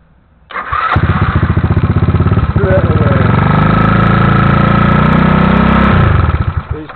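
A GY6 scooter engine cranks over and catches, then runs at a steady, loud, buzzing idle close by for several seconds before cutting off.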